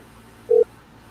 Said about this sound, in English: I'm calling Dr. Mohammed.